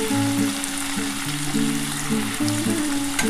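Onion and garlic frying in fish oil in a pan, a steady close sizzle with bubbling crackle and soft stirring scrapes throughout.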